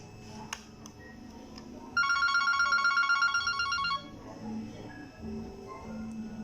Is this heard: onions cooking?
no